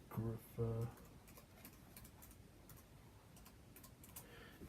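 A voice speaks briefly at the start, then soft, irregular clicks of typing on a computer keyboard continue quietly.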